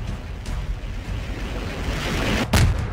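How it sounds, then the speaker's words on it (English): A video game explosion bursts out near the end, a loud boom over a steady rumbling din of in-game gunfire and noise. "Oh, what was that explosion?"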